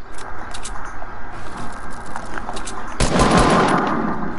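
Video game gunfire comes as irregular bursts of rapid shots throughout, growing louder and denser with a heavy blast of fire in the final stretch; no talk over it.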